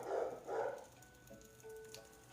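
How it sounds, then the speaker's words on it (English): Dogs barking indoors in the distance, two quick muffled barks in succession followed by quieter background sounds and a faint tone. "can you guys hear my dogs?"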